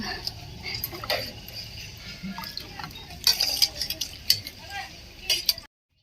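Dishes being washed by hand: scattered clinks of utensils and cookware with dripping, splashing water, close and fairly quiet, with faint voices in the background until the sound cuts off abruptly near the end.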